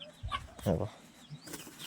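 A rooster at home gives a few short, close clucks in a brief burst, separated by quiet moments.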